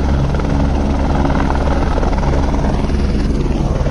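A helicopter flies near the Kedarnath base camp, its rotor a loud, steady close-range thudding roar that fills the whole few seconds with no voices over it.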